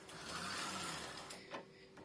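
A White Tiger flatbed knitting machine carriage slides across the needle bed without knitting, giving a smooth scraping rush that trails off into a short clack and faint rattle.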